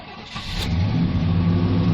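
A small motor on an old man's homemade rig revs up hard as it starts, racing loudly and steadily with a low droning pitch, close to the microphone and without any talk.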